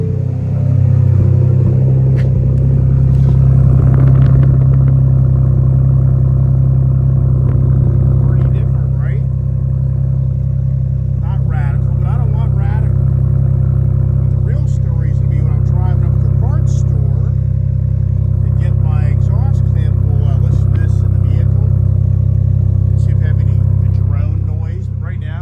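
A 2021-2022 Ford Bronco engine with a catback exhaust starts and settles into a deep, steady rumbling idle with a throaty exhaust tone, while a person talks nearby.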